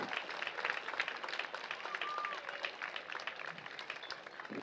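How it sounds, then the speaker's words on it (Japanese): Stadium spectators applaud both football teams after a New Year exhibition match, a fairly faint, scattered clapping spread across a distant crowd with some indistinct voices mixed in. "会場の皆様に今両チームによる挨拶、素晴らしいプレーを年始から見せてください。大きな拍手をお願いします"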